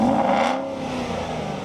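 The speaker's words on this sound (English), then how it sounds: "you're listening to the noise this car makes" An Aston Martin V8 Vantage sports car engine revs loudly and close by, a sustained throaty roar whose pitch sweeps downward as the revs fall, with no talk.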